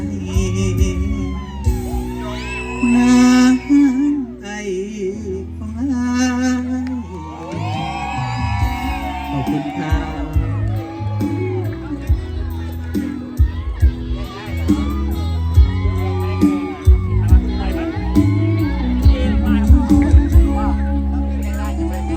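Festival crowd cheering, whooping and shouting with applause after a folk song performance at a Thai four-tribes festival, loud and dense throughout, mixed with lingering music and voices.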